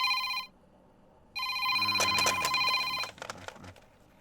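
A telephone rings at home while a son calls his father: a short ring, a pause, then a longer burst of electronic bell tones, followed by faint clicks and handling noises, fairly quiet overall.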